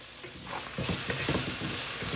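Vegetables sizzling and being tossed in a frying pan with salt and seasoned pepper, a steady close frying hiss with repeated scraping, rustling stirs and shakes, and no talking.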